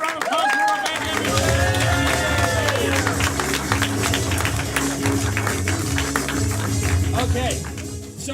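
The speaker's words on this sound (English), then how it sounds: "One more round of applause for Rebecca," A comedy club audience applauds and cheers loudly, a dense continuous wash of claps with voices calling out and mingling through it.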